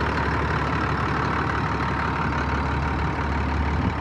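A John Deere 7810 tractor with a mechanical gearbox idles up close, its engine giving a steady, loud, low rumble without a break.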